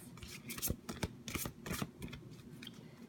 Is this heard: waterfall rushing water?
no